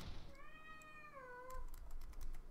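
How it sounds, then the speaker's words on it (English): A house cat meows once in a drawn-out, rising-then-falling call, fairly close but not loud, followed by faint keyboard tapping and clicks in a quiet room. "Sorry, that was my cat."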